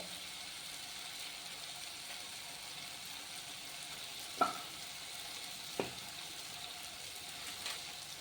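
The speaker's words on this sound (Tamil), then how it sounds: "இப்போ நம்ம மசாலாவெல்லாம் போட்டுக்கலாம் இப்போ தனி மிளகாய் தூள்" Spices and chili powder hit a sizzling pan, giving a steady, fairly loud frying hiss with two brief clinks or scrapes partway through and no talking.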